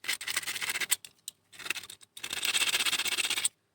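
Dry, scratchy rubbing of carbon paper against a starter motor's metal contact strips, done up close in a few quick bursts with short pauses between them.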